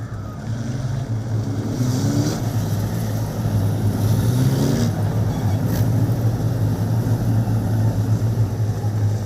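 Several wingless sprint car engines drone steadily at a distance at Lismore Speedway, a constant low roar with rising and falling revs.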